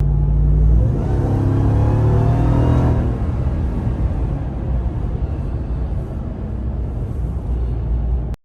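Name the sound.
2021 Ram 1500 TRX supercharger spooling, Hemi engine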